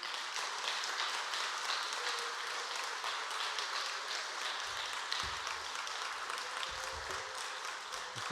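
A church congregation at a Sunday afternoon service applauds to welcome a returning missionary, with steady, moderately distant clapping sustained throughout and a few low thumps near the end.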